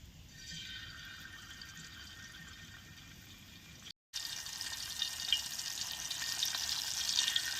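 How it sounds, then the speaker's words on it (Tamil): Snakehead murrel fish frying in a pan beside a lotus lake, a soft, steady hiss of oil that briefly cuts out and returns louder and crisper, with bright crackles and no talking. "மறு ரவுண்டு மீன் வைக்க போகிறோம்."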